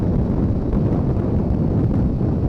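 Wind buffeting a Suzuki DRZ400 supermoto dirt bike at about 70 mph on the highway, a dense, constant low roar of rushing air pressing against the rider.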